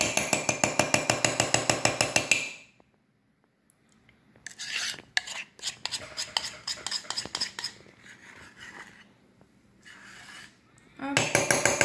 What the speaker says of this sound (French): j'essaye de racler au mieux avec ma cuillère